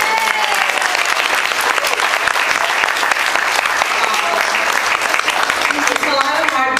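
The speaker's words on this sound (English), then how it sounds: "we need to give her a round of applause" A fundraiser audience gives a sustained round of applause, dense and steady from start to finish, with a few voices faintly audible beneath the clapping near the end.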